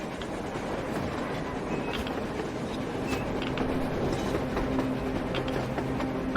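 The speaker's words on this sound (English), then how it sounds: "A damn train on the surface!" A train rolls across the surface in the game Metro, a steady, dense rumble and clatter of rail cars that holds constant and close, with faint metallic ticks on top and no talking.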